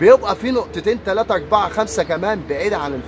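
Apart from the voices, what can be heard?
None of the usual background noises is heard.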